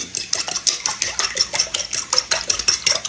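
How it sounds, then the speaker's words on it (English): Beaten eggs being whisked in an old mixing bowl, a fast regular clinking of utensil against the bowl, close and steady throughout. "Break them up, and then we're going to mix these good."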